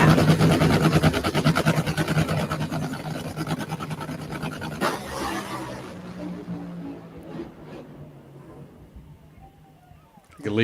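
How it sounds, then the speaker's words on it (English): A Top Fuel drag racing car idles on the starting line, a loud, rough, pulsing engine rumble that dominates at first and then fades back, with voices mixed in. "Top Fuel rails, Top Fuel funny cars, they are so loud that even you can hear the loudness when they're just sitting on the starting line"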